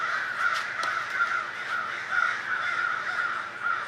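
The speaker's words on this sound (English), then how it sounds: "The crows know something's coming." Crows caw repeatedly in the open, a steady run of harsh calls at moderate loudness, some nearer and sharper than others, with no talk over them.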